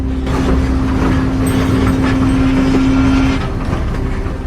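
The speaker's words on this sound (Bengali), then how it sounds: "একটি ট্রেন আসছে" A train approaching along a rail line, heard as a steady loud rumble with a sustained low mechanical hum that fades near the end; no talking.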